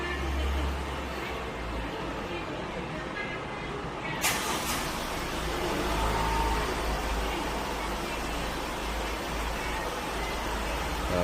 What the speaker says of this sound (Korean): 이 상태에서 잠긴 버튼을 2초간 길게 누르면 원격 시동이 걸리게 됩니다.